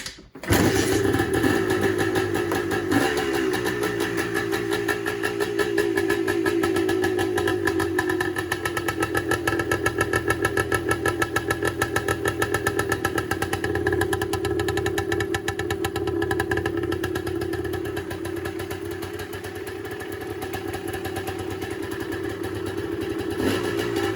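A motorcycle engine cranks and catches right at the start, then settles into a steady, loud, close idle with a fast even pulse that holds for the rest of the stretch, with no talk over it.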